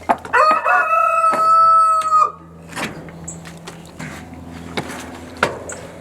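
A rooster gives one loud, close crow lasting about two seconds, followed by scattered clucks and quieter farmyard sounds.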